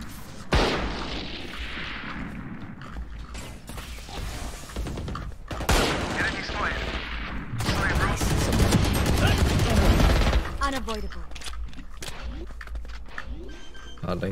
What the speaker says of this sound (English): That gun shoots so fast.